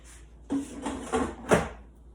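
A few dull plastic clunks and slides of an air fryer basket being pushed shut, close by with short pauses between knocks.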